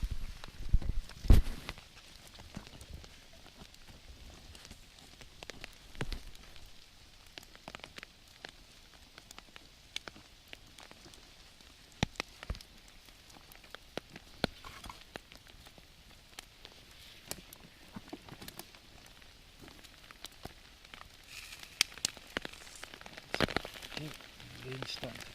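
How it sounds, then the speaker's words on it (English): Rain patters at a forest wild camp in Scotland, a soft steady wash with scattered sharper drops and clicks; occasional low thuds and rustles sound nearby, and a voice briefly speaks. "Rain's starting to come down again."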